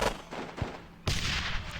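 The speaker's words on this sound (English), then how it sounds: "Let's fire at them." Gunfire in the Squad Battles Dien Bien Phu war game, a few sharp shots, one early, one mid-clip and a heavier burst near the middle that carries on as a dense rumbling volley.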